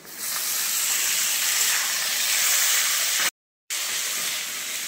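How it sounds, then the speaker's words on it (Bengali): Chopped tomato fries in a pan of hot oil with onions, making a loud continuous sizzling hiss that breaks off briefly near the end before carrying on, with no voices. "এবারে দিয়ে দিলাম টমেটো কুচি"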